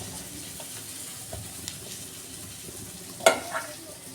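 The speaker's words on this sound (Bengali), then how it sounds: "এই যে লাল আলুটা আমি মেখে নিচ্ছি।" Red potatoes mashed by hand with cumin and coriander powder for cutlets give soft, close, wet squishing and stirring sounds, with a sharper brief knock near the end.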